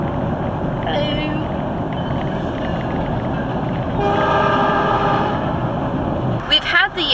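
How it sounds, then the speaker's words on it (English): A train rumbles past close by in Alaska, sounding a long horn blast midway, with steady rolling rail noise and a few squeals near the end. "Here comes the train."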